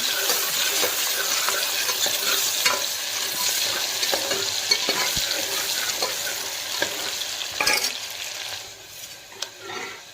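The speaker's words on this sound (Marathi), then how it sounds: "आता कांद्याला फ्राय करून घ्यायचं आहे आपल्याला" Onion frying in a pressure cooker for Konkani chicken, a steady close sizzle with scraping stirs and occasional metallic taps throughout, no talking.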